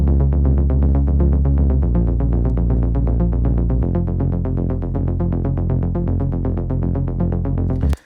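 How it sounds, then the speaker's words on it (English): An electronic music loop layers a deep sustained synth bass with a rapid, evenly pulsing pluck synth on top, loud and dense throughout, the bass shifting notes twice before the loop cuts off abruptly. "So basically I have a bass, and then on top of that I have a pluck."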